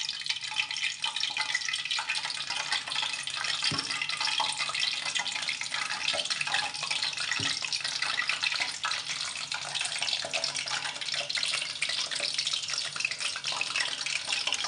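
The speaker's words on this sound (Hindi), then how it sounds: "अब हम पकौड़े फ्राई कर लेते हैं।" Pakoras frying in hot oil give a steady, dense crackling hiss that runs evenly throughout, with no one talking.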